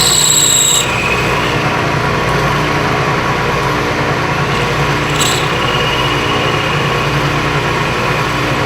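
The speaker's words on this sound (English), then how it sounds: "I'm basically boring a skim bore right down through it" Metal lathe with a boring bar taking a skim cut down through a metal bore for a race car roll bar mount, a steady loud motor hum and cutting drone that runs continuously, alone without talk.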